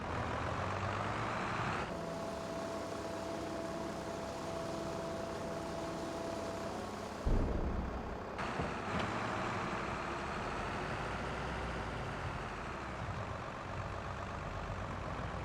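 A truck unloads a trailer in Farming Simulator 22, a steady engine rumble with a sustained tonal beep early on, then a short clunk and hiss before the engine carries on alone.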